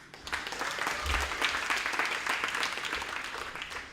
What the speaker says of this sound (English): Round of applause for the third speaker of Kokopo Secondary, Manila Teariki Fariata